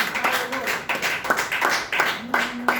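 A church congregation claps rhythmically in acclaim for Jesus, steady close hand claps continuing under a voice speaking over them.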